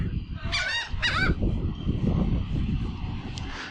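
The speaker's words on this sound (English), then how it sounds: "seagulls making funny noises" Seagulls give two quick, nasal squawking calls over the rumbling wind and ambient noise of a seaside boardwalk in Atlantic City, with a faint third call near the end.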